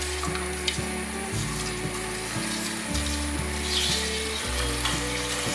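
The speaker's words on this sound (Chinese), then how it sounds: "这时候可以开火了，把调味料炒匀。" Seasonings, sauce and chili stir-fried in a pan for a vegan bitter gourd dish, with a continuous hissing sizzle, occasional scraping stirs and a faint low hum in the background; nobody speaks.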